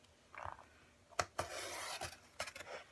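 A handheld paper trimmer blade is pulled down to shave a thin strip off the bottom edge of a planner cover, giving sharp scraping cuts and rasping slides in a few quick bursts, close and alone.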